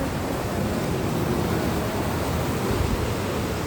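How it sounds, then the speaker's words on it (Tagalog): Takakkaw Falls in British Columbia, one of Canada's tallest waterfalls, gives a steady, loud, unbroken roar of crashing water heard from nearby, with no pauses or voices. "ito yung pinakamataas na waterfalls dito sa Canada, sa BC"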